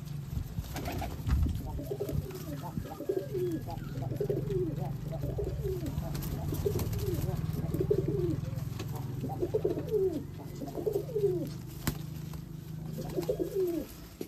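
Several domestic racing pigeons coo in repeated soft rolling phrases, close by, over a low steady background hum.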